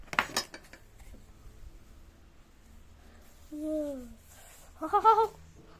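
A spoon scrapes and clinks against a dish as mango pieces are mixed with salt and chilli powder; the touches are soft at first, then a brighter cluster of clinks comes near the end.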